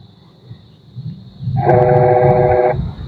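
A water pump motor hums steadily with a buzzing, tonal whine, starting up partway through and running for about a second before cutting off.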